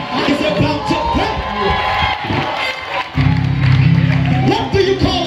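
A church congregation at a live worship service in Calabar, Nigeria claps and cheers loudly, with shouts and whoops rising into a dense roar halfway through.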